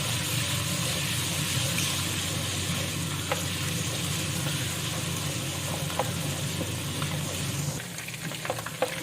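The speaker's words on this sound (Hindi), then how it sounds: "मैं इसमें अदरक लहसुन का पेस्ट डालूंगी। इसको थोड़ा भून लेंगे।" Ginger-garlic paste frying in hot oil in a home kitchen for aloo gobi, a steady close hiss and crackle with a few light spoon clicks, dipping slightly near the end.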